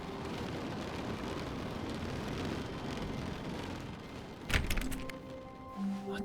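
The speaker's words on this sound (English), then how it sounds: "I hear rain?" In The Stanley Parable, a steady wash of rain hiss fills the background, broken near the end by a dull thump and a few faint tonal sounds.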